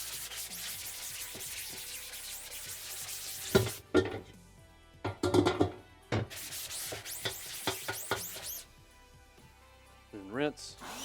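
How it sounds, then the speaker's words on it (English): A white scrub pad rubs over a screen printing screen during degreasing, giving bursts of scratchy scrubbing in short strokes with quieter gaps, near and moderately loud, with faint background noise between passes. "Again, I'm going to use the white scrub pad."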